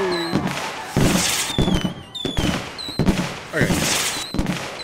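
Fireworks going off in the video game The Universim: repeated bursts and crackles at fairly close range, mixed with game music and interrupted by a cheerful voice talking over them.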